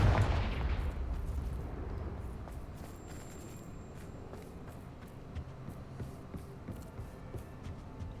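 A Confringo blasting spell explodes in the video game Hogwarts Legacy, opening with a loud boom that rolls into a long rumbling decay. Scattered crackles and small impacts follow over a steady low ambient bed.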